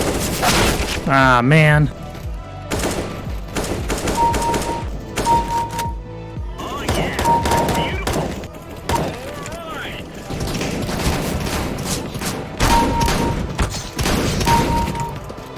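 Rapid gunfire and thudding impacts fill a shooter video game, loud and nearly continuous, with a voice talking over the shots.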